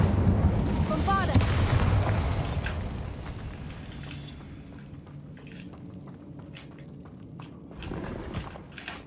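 A Bombarda spell explosion in Hogwarts Legacy: a loud booming blast at the start that rumbles and fades over several seconds, with faint thuds and a voice afterward.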